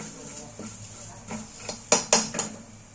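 Mango pieces and green chilies in oil in a pan, with spoon and pan clatter: a few sharp metallic clinks and scrapes close by over a faint steady hiss, no talking.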